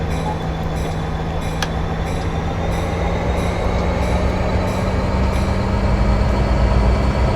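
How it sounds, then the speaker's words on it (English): Another train rolls past in Train Simulator 2019, a loud, continuous rumble with a steady low hum and faint wheel noise that slowly builds over several seconds, with no voices. "Looks like we got another train coming through"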